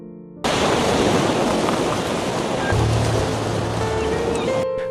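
Loud, continuous roar of ocean waves and surf at a seaside beach house, rushing broadband noise that kicks in abruptly and holds steady, with a faint low rumble partway through and no voices.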